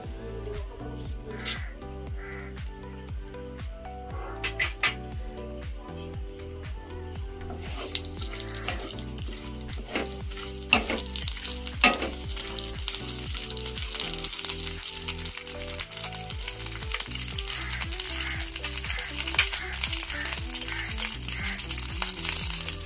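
Whole spices sizzle in hot mustard oil: panch phoron, bay leaf, cinnamon and garam masala, for a vegetarian potol paneer dish. The frying hiss swells and grows steadily louder, with clinks and scraping throughout.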